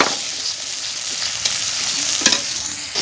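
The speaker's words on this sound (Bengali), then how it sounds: "মশলাটা তেলে ভাজা হয়ে গেছে এখন গুঁড়া মশলা দিব তো তাই সামান্য পরিমাণ পানি দিয়ে দিলাম" Ground spice masala frying in oil with a splash of water sizzles steadily up close, broken by a few sharp scraping and clinking stirs against the pan.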